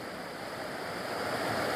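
Waterfall in the Scottish landscape, a close, steady broadband rush of falling water with no breaks, filling the short moment alone without any voices.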